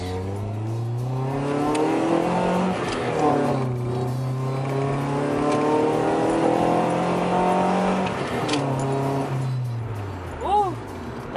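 A street car revs and accelerates after a throttle position sensor calibration, its engine note climbing in repeated rising sweeps through the gears, loud and steady for about ten seconds, with a brief chirp near the end.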